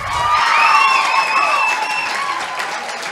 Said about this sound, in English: Let us applaud Professor Dura.